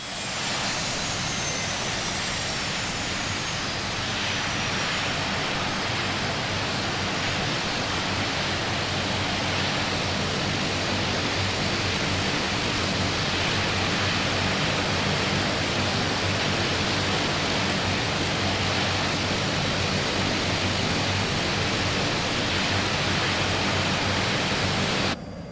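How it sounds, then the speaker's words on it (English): Right engine of an Aerosoft Twin Otter starting up in Microsoft Flight Simulator: a loud, steady broadband roar with a high whine that slides downward early on, unbroken and without talk. "we're going to start the right engine first"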